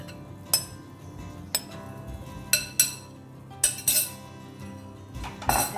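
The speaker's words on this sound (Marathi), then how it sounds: "आतां हितून आमी प्रॉन्स घालुया." Prawns tipped into masala in a pan, heard as a handful of sharp metallic clinks and scrapes of a spoon against the pan over a quiet background, close and clear, with no speech.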